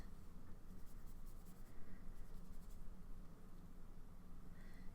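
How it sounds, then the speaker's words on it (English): A fountain pen with green-brown Sailor ink scratches and swishes across thin Tomoe River paper, laying down a large swatch in soft, steady, close-up strokes. "Get a great big swatch of that on that Tomoe River paper."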